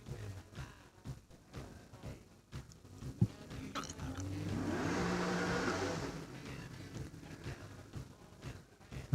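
A Holden Torana hillclimb race car accelerates up the course, its engine swelling from a distance to a louder sustained roar around the middle before fading, with background crowd noise and commentary.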